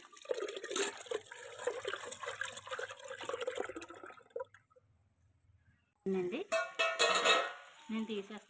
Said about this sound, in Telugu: బియ్యం కడుగుతున్నానండి